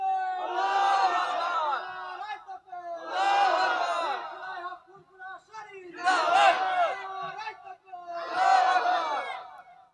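A crowd at a Bengali religious sermon shouts takbir in four loud, evenly spaced communal bursts, each swelling chant of many voices separated by short pauses.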